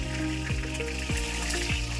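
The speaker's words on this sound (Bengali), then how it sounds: "তেলটা যখন গরম হয়ে যাবে তখন তাতে দিয়ে দেবো অল্প করে গোটা জিরে এবং তেজপাতা।" Whole cumin seeds and a bay leaf fry in hot oil in a wok, producing a short, even crackling sizzle.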